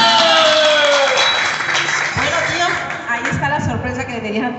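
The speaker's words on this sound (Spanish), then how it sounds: "A ver, ese aplauso bien bonito para la quinceañera." Guests at a quinceañera celebration clap together in a festive hall while music with sustained tones plays loudly underneath and voices carry through the crowd.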